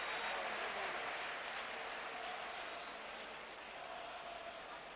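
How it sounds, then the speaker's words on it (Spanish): A football stadium crowd at Sarrià applauds during a 1990-91 Espanyol versus Sevilla match, a broad, distant wash of clapping and crowd noise holding steady through the whole stretch, slightly fading toward the end. "Los primeros aplausos que arranca Ogris, el austríaco, en el estadio de la carretera de Sarriá."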